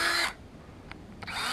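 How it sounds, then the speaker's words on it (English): A power drill drives a screw into a wooden gate hinge after a pilot hole, a loud whirring burst that stops, a couple of faint clicks, then resumes. "we just drill our first pilot hole, flip it around where it's supposed to go, and in she goes"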